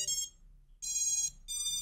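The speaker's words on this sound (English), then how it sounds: "There's the full beeps." An FPV freestyle drone's ESCs sound their startup beeps after a reboot: three clear, high electronic tones in quick succession with short gaps, close and distinct in a quiet room.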